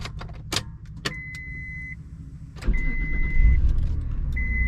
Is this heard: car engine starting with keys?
yes